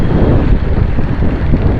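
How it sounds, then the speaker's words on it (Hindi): Steady wind gusting past the microphone on a busy city street along Tariq Road in Karachi, a continuous low rumbling buffet with no voices. "इस जगह पे बहुत प्यारी हवा चल रही है।"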